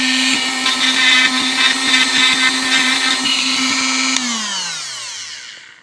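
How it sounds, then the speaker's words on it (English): Rotary Dremel tool grinding JB plastic bond filler off a Scout 800 steering wheel: a steady high whine with rough chattering contact, close and loud, then the motor winding down as it is switched off. "I'm going to use the Dremel to take the majority of it off of here."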